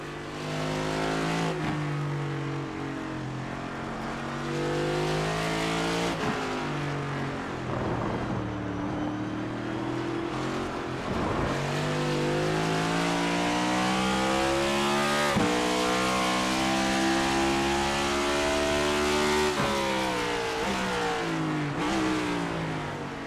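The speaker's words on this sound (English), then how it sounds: "You hear him right there, kind of downshifting, working the throttle, coming out of the corner." A Next Gen Cup Series race car in a racing video game at Circuit of the Americas, its engine revving hard with repeated downshifts and throttle blips, pitch sweeping up and down through gears, loud and continuous.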